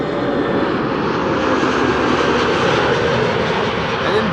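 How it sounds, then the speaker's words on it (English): A Pegasus airliner landing on the Kaagbaan runway at Amsterdam Schiphol Airport makes a loud, continuous broadband engine roar, steady throughout at close range with no talking. "you are going to pick up the sound of Pegasus Flight 1251 landing here on the Kaagbaan"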